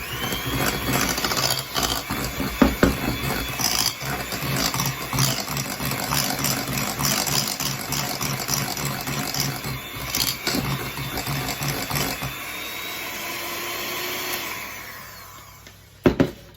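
An electric mixer whisks vinegar and corn flour into pavlova meringue with a continuous close, loud motor whir and a few knocks against the bowl, then winds down and stops near the end.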